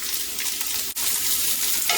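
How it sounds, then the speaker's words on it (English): Corned beef hash with potatoes and bell peppers sizzles steadily in a frying pan as it is stirred, a continuous close hiss broken by one brief dip partway through, with no talking. "I'm gonna give that a quick little stir"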